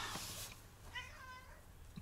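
A cat meows once, faint and close, in a quiet indoor room, with a soft rustle at the start and a person's voice nearby.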